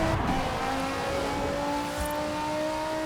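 A Viper's engine in Forza Horizon 4 revs and drones at high, steady RPM, loud and close, with a strong harmonic whine that shifts pitch slightly, accompanied by a brief tire squeal near the start.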